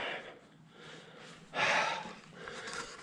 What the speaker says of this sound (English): Sorry about the puffing and panting, just been struggling a bit here.